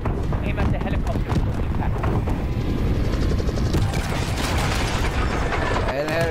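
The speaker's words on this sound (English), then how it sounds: "Aim at the helicopter." Helicopter in the video game Call of Duty Modern Warfare, a loud continuous rotor drone mixed with gunfire and battle noise, with voices talking over it.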